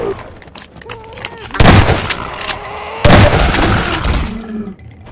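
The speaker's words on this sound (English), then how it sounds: "Shotguns for everybody." Shotgun blasts in Half-Life 2, two heavy booming shots a little over a second apart, each with a long rumbling tail, loud and close over faint game noise.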